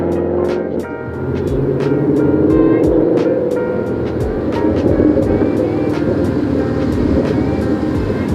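Ford Mustang GT with an aftermarket exhaust, rumbling steadily and loudly at close range with a dense low-end roar and a few sharper pops, no talking over it.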